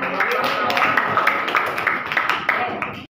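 Students in a mathematics class clap together in a quick, scattered patter that runs continuously over a bright, roomy background, with voices mixed in throughout before it cuts off.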